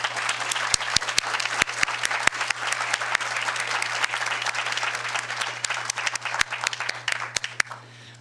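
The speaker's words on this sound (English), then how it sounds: "I'd love to have everyone give our panelists a big round of applause" A forum audience applauds its panelists: dense, sustained clapping from a roomful of people with a few sharp close claps standing out, fading away in the last second over a steady low hum.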